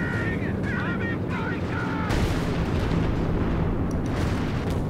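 Howitzer artillery fires in the video game Company of Heroes 2 amid a dense, loud wash of battle booms and rumbling, with a voice briefly audible early on.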